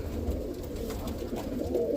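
A roller pigeon coos softly and close, its low rolling calls over a faint hum of room noise, with no voices.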